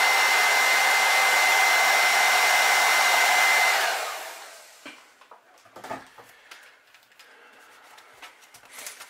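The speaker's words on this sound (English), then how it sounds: "more than likely I'm going to heat set it and make sure it's dry" A heat gun blows loudly and steadily while heat-setting paint on a crankbait fishing lure, then winds down after about four seconds, leaving quiet scattered handling taps and clicks.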